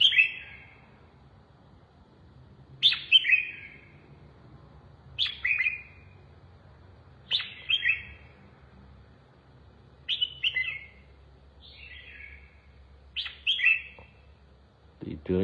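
A red-whiskered bulbul kept as a competition songbird sings clear, bright whistled phrases, about eight short bursts spaced a second or two apart over a quiet low background hum.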